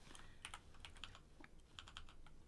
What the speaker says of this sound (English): I can hear Joe typing